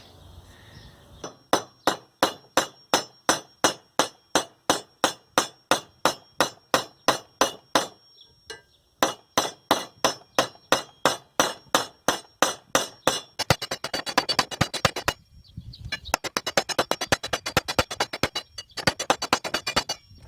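Hammer striking a knife blank during forging, a long run of crisp ringing metal blows at a steady pace, then faster clustered strikes after short pauses, close and alone.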